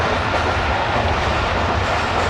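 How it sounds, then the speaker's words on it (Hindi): Bulleh Shah passenger train on the Lahore–Kasur–Pakpattan line running fast on its rails, heard from the rear half coach as a loud, steady, dense rumble of wheels and carriage noise. "ट्रेन इस वक्त काफ़ी तेज़ दौड़ रही है"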